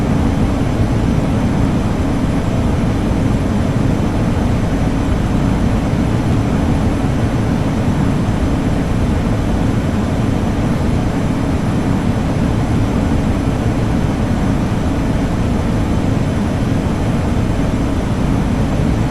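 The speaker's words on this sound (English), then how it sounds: "Wind noise." Steady, loud rushing wind noise in the cockpit of a RealAir Turbine Duke flight simulator during descent, a dense unbroken roar with engine drone blended in.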